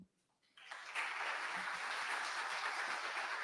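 After a brief quiet moment, audience applause swells in at a tax reform seminar, steady, dense clapping from a sizeable crowd held at an even level to the end.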